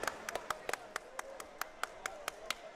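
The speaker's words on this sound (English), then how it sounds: "I'm clapping a little too loud." A basketball commentator claps his hands courtside at an FAU versus North Texas men's game: about a dozen sharp, fairly even claps in quick succession, close and crisp over faint background murmur.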